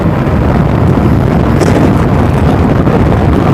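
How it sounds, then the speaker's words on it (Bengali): Cool wind rushes over a motorbike riding at moderate speed across open ground, a loud, constant buffeting roar against the microphone that lasts the whole moment, with no talking. "একটু ঠান্ডা বাতাস খাবো"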